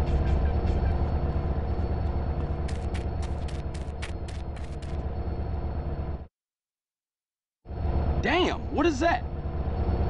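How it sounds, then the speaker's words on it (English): A train in the video game GTA San Andreas rumbles loudly and steadily with a rapid series of clacks, then cuts to silence before returning under a rising whine as voices speak. "Go check out the train, CJ."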